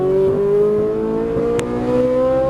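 A Ferrari 458 Italia engine under light throttle on a track, with a loud, steady, close engine drone whose pitch climbs slowly.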